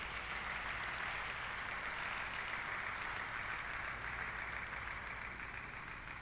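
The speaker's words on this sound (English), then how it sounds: "can we give you a better round of applause?" A conference audience at the AIO's 47th Annual General Assembly applauds in a steady, dense wash of clapping that holds at an even level throughout, with no voices over it.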